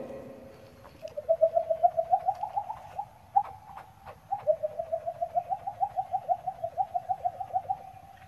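A man mimics an eerie bird call heard at midday in a frightening place, making a long run of rapid, rhythmic, cooing hoots that rise slightly and pause once before continuing, close and moderately loud, with no talking.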